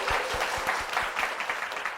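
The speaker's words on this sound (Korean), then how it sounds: "우리 박수 한번 모시겠습니다." Church congregation claps briefly for a deacon, a short soft burst of applause lasting about two seconds, with faint low thumps underneath.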